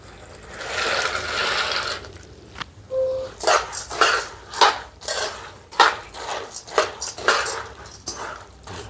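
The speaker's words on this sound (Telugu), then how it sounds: "ఈ వేడి పాకాన్ని ఇందులో వేసేసుకొని కలిపేసుకుందాం" Boondi being stirred into hot sugar syrup in a large bowl, with a spoon clinking and scraping against the bowl in a rapid, irregular series of close, fairly loud knocks and wet rustles.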